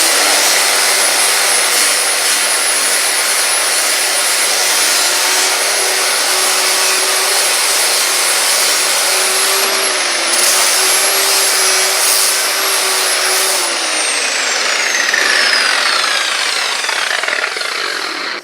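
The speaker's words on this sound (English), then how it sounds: "I'll be putting it on this grinder right over here, this guy, which really has one speed." A cheap single-speed Chicago Electric grinder fitted with a 60 grit hook-and-loop disc runs continuously for the whole stretch, a loud steady whine and roar that drops slightly in pitch near the end under load.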